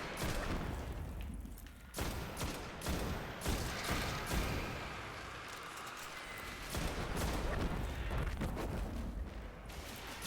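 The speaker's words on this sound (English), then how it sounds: "See if I can place a grenade right." A grenade goes off amid dense, continuous combat in the Destiny video game, with repeated sharp blasts and firing packed closely together at high volume throughout.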